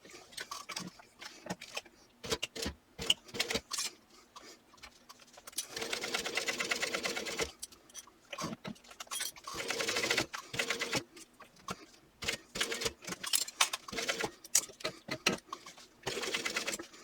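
A home sewing machine stitches through the layers of a clutch bag in several bursts of steady, rapid mechanical whirring, with short pauses and clicks between runs, close and moderately loud.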